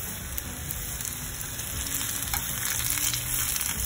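French toast frying in a tablespoon of oil in a pan crackles and spits steadily at close range, a soft even sizzle with scattered pops throughout.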